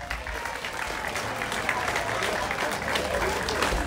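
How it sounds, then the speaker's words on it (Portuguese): Audience at a summer festival show in Barreiras applauds a comedian taking the stage, a full, sustained round of clapping with faint crowd murmur and cheering mixed underneath. "uma grandiosa salva de palmas para o Algarvio Marafado!"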